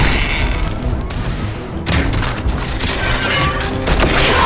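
Gunfire in the video game Starfield booms in a dense, loud barrage of blasts and crashing impacts that fills the whole stretch, with one sharp burst standing out midway.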